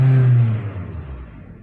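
A Kia New Carens engine revs briefly as the accelerator is lightly pressed and released, a low hum that rises to a strong close drone and then smoothly settles back to a quieter idle.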